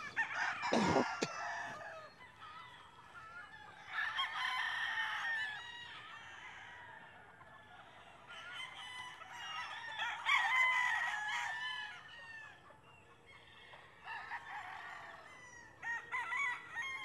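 Rooster crowing repeatedly among a flock of Kingslasher chickens, with clucks between calls, moderately near with no talking.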